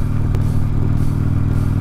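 A Harley-Davidson Twin Cam 88 Dyna motorcycle with short exhaust rumbles loudly and steadily up close while riding, its deep engine drone continuous with some wind clatter.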